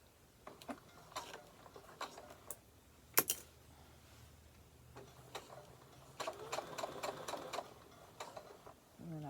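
A sewing machine works on a zipper pouch: scattered faint clicks and taps, then a run of short rapid stitching bursts, all quiet and close.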